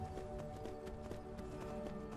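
Horse hooves clip-clopping in Skyrim, a steady rhythmic run of hoofbeats over a continuous game music and ambience bed, moderately loud and unbroken for the whole stretch.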